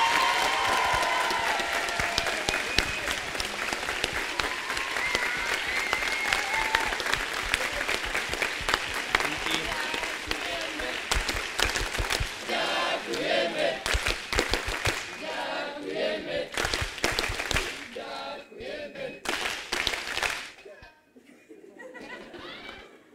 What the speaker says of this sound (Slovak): A najväčší potlesk pre ňu.